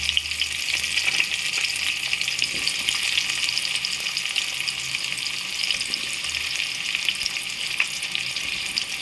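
Drumsticks are added to a Gujarati-style tomato and potato sabji that sizzles loudly and steadily in a pan, with a constant hissing fry and faint stirring underneath and no talking.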